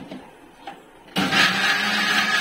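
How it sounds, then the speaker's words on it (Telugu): A kitchen mixer blender switches on after a quiet moment and grinds apple pieces for juice with a steady, loud whirring buzz that continues to the end. "ఇప్పుడైతే మిక్సీ చేసేస్తాను"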